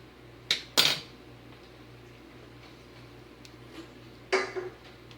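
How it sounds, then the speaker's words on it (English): A spoon is run along the edge of a block of cold process soap, making three short, close scraping strokes, two together at the start and one after a pause, over a quiet background hum. "I just run a spoon down this edge"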